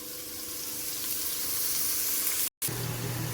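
Steady sizzle of small onions sautéing over high heat for pepper chicken masala, a continuous frying hiss that cuts out briefly, then resumes with a low hum underneath.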